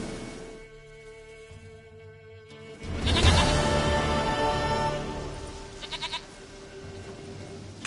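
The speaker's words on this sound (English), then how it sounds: "Goat of mine, dearest," A goat in The Witcher 3: Wild Hunt lets out a bleat a few seconds in, fairly close and clear over quiet ambient game sound, followed by a couple of shorter bleating pulses.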